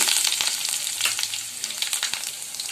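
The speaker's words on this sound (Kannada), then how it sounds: "ಎಣ್ಣೆ ಕಾದಿದೆ. ಇವಾಗ ನಾನು ಎತ್ತಿಟ್ಕೊಂಡಿರೋ ಸಾಸಿವೆ ಜೀರಿಗೆನ ಇಲ್ಲಿ ಸೇರಿಸ್ತಾ ಇದ್ದೀನಿ. ಕರಿಬೇವು" Mustard seeds, cumin and curry leaves sizzle and crackle loudly in hot oil, a dense spattering hiss with sharp little pops scattered through it.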